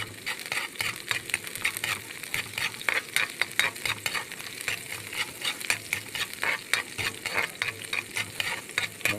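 Ingredients fry in plenty of oil, giving a steady close sizzle broken by repeated scraping and stirring strokes from start to finish.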